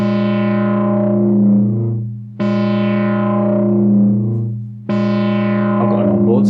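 A modular synthesizer plays through a small onboard powered speaker, three sustained, harmonically rich distorted tones each starting abruptly and decaying over about two seconds, the last breaking into gritty, warbling modulation.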